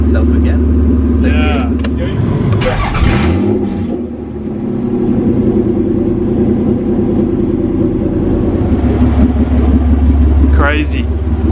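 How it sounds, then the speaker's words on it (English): A V6 engine in a Toyota MR2, started for the first time, revving and idling high on its own with a steady low rumble, while people talk over it nearby. "Every time I rev it revs itself again."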